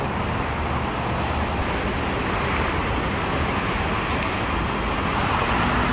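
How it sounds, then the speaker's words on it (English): Steady, dense roar of city street traffic in Los Angeles, a continuous broadband wash of passing vehicles heard from nearby with no talking. "Traffic's not too bad."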